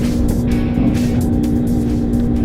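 A Kawasaki ZZR 400 motorcycle is ridden on a sunny road back from the beach, its engine a loud, steady drone with a constant hum and heavy wind rush throughout.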